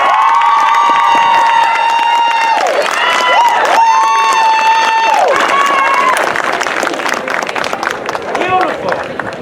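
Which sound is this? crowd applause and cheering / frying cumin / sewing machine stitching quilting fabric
crowd applause and cheering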